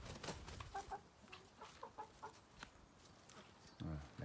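Coucou de Rennes hen and rooster clucking in a new coop, soft repeated clucks close by, with a person talking over them.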